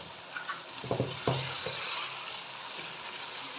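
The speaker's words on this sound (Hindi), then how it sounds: "अभी मज़ीद 2 से 3 मिनट के लिए मैं फ्राई करूँगी चिकन को" Chicken karahi sizzles steadily in a pot with crushed ginger and sliced green chilies, a close, even frying hiss broken by a few stirring scrapes and clinks.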